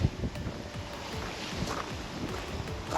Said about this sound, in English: It's breezy here.